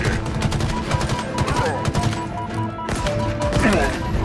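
Rapid automatic gunfire in the Halo Infinite video game, dense bursts of shots with a couple of brief pauses and metallic clinks, loud and close throughout.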